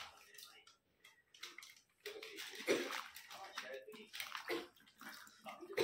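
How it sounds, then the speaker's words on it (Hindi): Mushrooms are washed in hot water, with splashing, sloshing and trickling water in uneven bursts close by, growing busier after the first couple of seconds. "मशरूम बनाने से पहले गर्म पानी में धो लिया करो"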